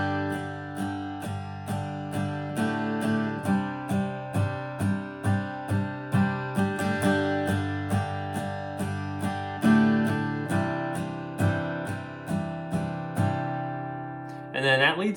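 Acoustic guitar strums the intro of a song, steady rhythmic chord strokes in an even pulse with occasional accented hits, close and moderately loud, alone without talk, ending with a brief scrape.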